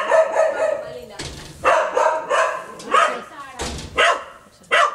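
A stray street dog barks repeatedly nearby in short bursts, interleaved with a person's excited talk.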